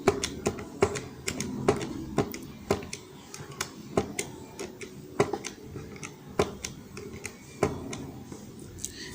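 Calculator buttons pressed one after another while matrix values are keyed in, a run of crisp, close plastic clicks at an uneven but steady pace.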